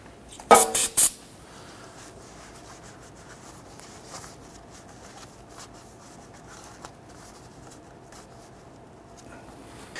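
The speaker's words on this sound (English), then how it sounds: "give it a spray with some solvent and clean that up" Three quick, loud hisses of an aerosol solvent cleaner spray near the start, followed by quiet rubbing and wiping sounds, while cleaning up during an oil change on a 1992-1996 Toyota Camry 2.2L I4.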